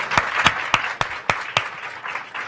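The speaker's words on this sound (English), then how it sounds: "How about another round of applause for those accolades?" An audience applauds at a women's event during the UN General Assembly, with evenly spaced, crisp claps in a steady rhythm that sound like a small group or thin crowd, fading slightly toward the end.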